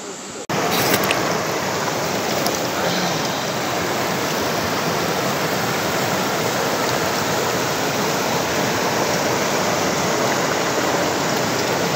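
Clear stream water rushes steadily and loudly close by, a continuous broadband flow near rice fields that starts abruptly and keeps an even level throughout, with no talking.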